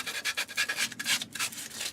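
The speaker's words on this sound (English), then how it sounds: "sanding, get some of these bits of wood off" Hand sanding of scrap wood for a reindeer Christmas decoration, heard as a close, steady run of rhythmic rasping strokes, roughly eight back-and-forth passes with brief gaps between them and no voices.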